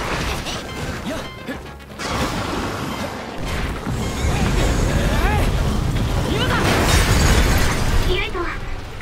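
Heavy crashing and smashing impacts in Scarlet Nexus as hanging materials are telekinetically dropped onto an enemy, with clattering debris and bursts piling up over loud noisy action.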